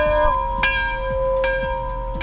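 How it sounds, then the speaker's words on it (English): A bright bell rings out several times in a regular pattern, each strike leaving a clear sustained tone that overlaps the next, loud and close with no talk. "Somebody ring the bell."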